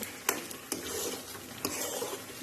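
Homemade ghee being stirred in a pot: a spoon scrapes along the pot with a few sharp clinks over a steady, soft frying sizzle.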